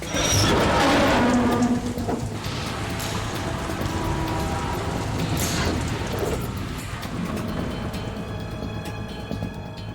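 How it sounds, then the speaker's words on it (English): Steady rain falls in the Metal Gear Solid 2 video game, a dense broadband hiss that is heaviest at first and then continues at a slightly lower level throughout. "It stopped raining."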